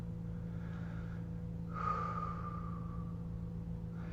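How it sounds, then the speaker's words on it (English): A deep breath is taken close to the microphone, a soft airy rush swelling briefly over a steady low hum, alone without talk. "Just take a deep breath."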